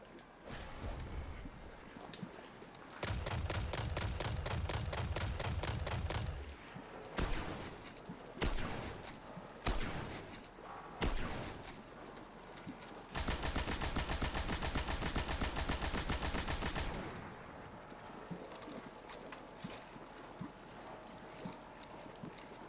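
Weapon firing and reloading in Destiny with the Ophidian Aspect, heard as two long sustained bursts of rapid automatic fire separated by clicking, clattering reload and weapon-readying sounds.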